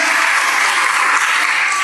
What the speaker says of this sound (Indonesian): Tepuk tangan saudara, ini luar biasa.